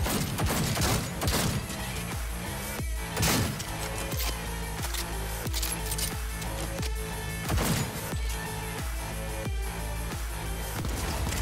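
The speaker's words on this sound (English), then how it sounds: "That charge shot doesn't work. It just shoots automatically, even if I hold it." Automatic gunfire from a charge-shot weapon in the video game Cyberpunk 2077: loud, rapid bursts of shots with sharp impacts, over a thumping game soundtrack. No talking.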